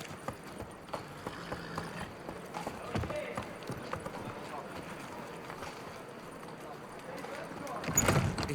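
Horse galloping in The Witcher III: Wild Hunt, a steady rapid clip-clop of hooves running on through most of the stretch, moderately loud against ambient game sound and rising into a louder rush near the end.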